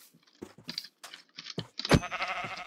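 Game sheep in Minecraft give a few short bleats amid clicky game effects, then a sharp hit sound lands near the end, with no talking.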